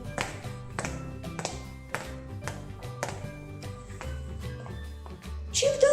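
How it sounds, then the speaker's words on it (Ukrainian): A foot lightly stamping on a stone lying on the floor during a children's lesson about sand and stone: a run of crisp taps over quiet background music, ending with a brief vocal sound. "А тепер я покладу камінь на підлогу"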